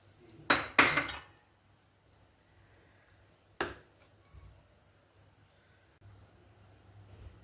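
A spoon clinks against a pot while crushed peanuts are added to sago kheer, two quick close clatters followed by one lighter tap and then quiet.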